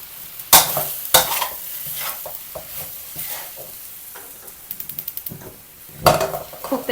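An egg fries in a pan for pad thai while a utensil stirs and scrapes it, sharp metallic clanks and a quick run of tapping over a gentle background sizzle, close up.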